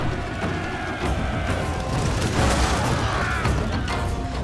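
Musket volleys and battle noise in Total War: Shogun 2, a dense, loud, continuous clatter of distant shots and rumble with no clear individual reports.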